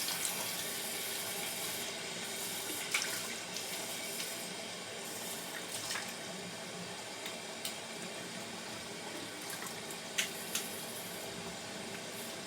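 Steady running water from a tap rinsing after a straight-razor shave, a continuous close hiss and splash with a few small clinks and knocks over it and no talking.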